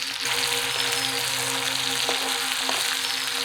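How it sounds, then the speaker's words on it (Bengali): Hilsa fish pieces fry in hot mustard oil in a wok, a steady bright sizzle running close and constant, with a few faint utensil knocks and no speech. "মাছটা খুব ভালো ভাজার সময় তেল আর টানছে না বরং তেল ছাড়ছে"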